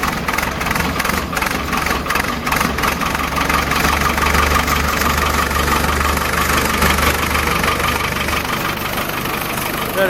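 A cold engine on a machine used for building a horse arena fires up and settles into a steady, loud rumbling idle that stays close and constant to the end.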